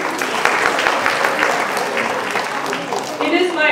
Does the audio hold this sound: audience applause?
yes